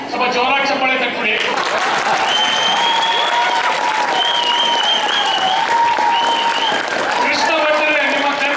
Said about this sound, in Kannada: ಸ್ವಲ್ಪ ಜೋರಾಗಿ ಚಪ್ಪಾಳೆ ತಟ್ಬಿಡಿ.